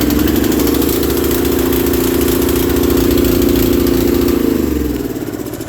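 A Honda snowblower engine runs steadily and loud at a constant idle for about five seconds, then its drone drops slightly toward the end, with no talking over it.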